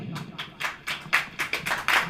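A church congregation at a Hindi-language worship service claps hands in a steady rhythm, about eight distinct claps over two seconds, moderately close and fairly loud with no talking over them.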